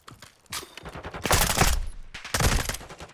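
In a competitive video game match between Vegas Legion and Minnesota Rokkr, rapid automatic gunfire crackles in two dense bursts, loud and close, with short gaps between them.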